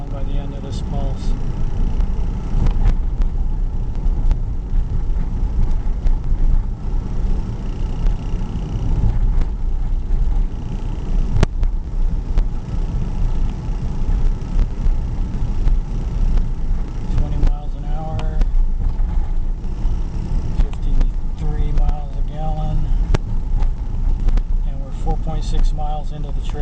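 A car coasts at 30 mph with the engine off during pulse-and-glide driving, a steady low road and tire rumble inside the cabin, heard under someone talking throughout.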